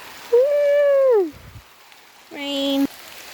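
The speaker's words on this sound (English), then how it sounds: "It's raining." Steady rain falls on a durian farm, a soft, even hiss running beneath loud cheering and whooping voices from people celebrating nearby.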